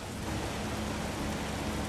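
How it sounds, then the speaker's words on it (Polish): Dense, steady hiss of rain pouring down during an F1 2016 race at the Italian or Singapore Grand Prix, continuous and fairly loud with no voices. "Motyw deszczu ładnie się prezentuje w tej odsłonie"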